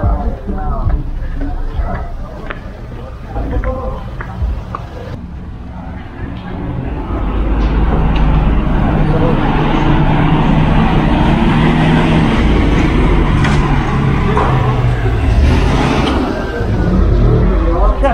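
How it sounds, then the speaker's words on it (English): Traffic sits jammed in a street in Guanajuato, Mexico, with engines idling and rumbling close by. The low drone swells louder and thicker after the opening seconds and then holds steady. "Traffic jam."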